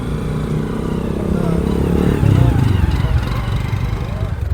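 A motorcycle engine runs steadily close by on a village road, its low rumble rising and roughening partway through, with people talking over it.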